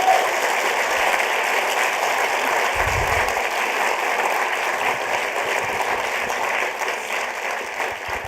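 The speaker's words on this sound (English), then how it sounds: "So a big round of applause and a thank you to them." A crowd at an engineering awards ceremony gives sustained applause, an even, continuous patter of many hands that holds steady throughout without pause.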